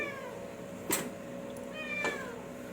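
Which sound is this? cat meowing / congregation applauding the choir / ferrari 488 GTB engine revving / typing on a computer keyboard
cat meowing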